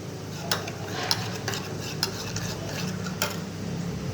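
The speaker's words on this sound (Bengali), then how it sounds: "আদা, রসুন নিয়ে ভালো করে কষিয়ে নিচ্ছি।" Ginger, garlic and ground cumin, coriander and chili sauté in a pan with a soft, steady sizzle, broken by light metallic taps and scrapes from a stirring spoon.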